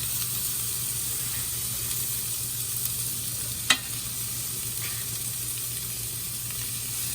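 Tomatoes cooking in a pan with garlic and shallots give a continuous even sizzle and hiss, close and steady, with a single sharp utensil tap midway and no voices.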